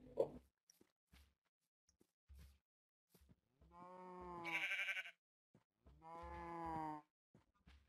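Blocky Minecraft sheep let out two long, wavering bleats after a few short clicks and footstep-like taps, clear and close with no talking.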